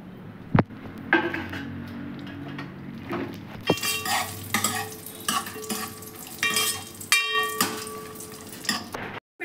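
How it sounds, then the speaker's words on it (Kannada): Raisins fry in hot ghee in a pan, giving a soft sizzle broken by repeated scrapes and clinks of a metal spoon stirring, close and irregular, with no talk. "ದ್ರಾಕ್ಷಿ ಇಷ್ಟನ್ನು ತುಪ್ಪದಲ್ಲಿ ಹುರ್ಕೋತೀನಿ."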